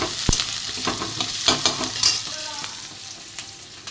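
Onions fry in a hot pan for a Bengali katla fish-head moong dal. There is a continuous close sizzle with scattered crackles and the clink of stirring, and no voices.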